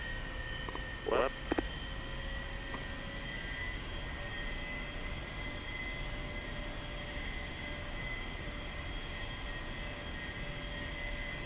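An A-4E Skyhawk jet in the DCS World flight simulator sits on the runway at the start of its takeoff, a steady droning engine tone under a brief burst of radio chatter.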